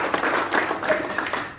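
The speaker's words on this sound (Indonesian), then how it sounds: "Kita berikan tepuk tangan bagi nama Tuhan Yesus." Church congregation clapping during a Sunday worship service, a dense steady patter of many hands filling the room for about a second and a half, with a voice faintly mixed in.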